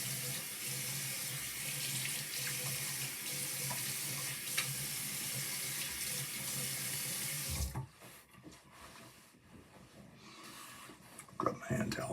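Tap water runs steadily into a sink while shaving lather is rinsed off after a straight razor shave, a close, continuous hiss that cuts off partway, followed by quieter handling sounds.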